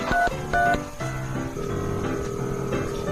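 Telephone dialing a call: a short run of bright keypad tones and clicks in the first second, followed by a steady low ringback or line tone, with no talk.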